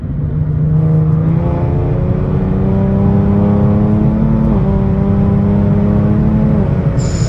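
A Kia Stinger's engine roars loudly under hard acceleration in a roll from 50, its pitch climbing steadily through a gear, with a brief dip midway before rising again.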